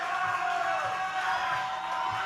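A wrestling crowd at an OVW TV event roars and cheers on wrestler T-Dub, a dense, continuous wash of voices with no let-up.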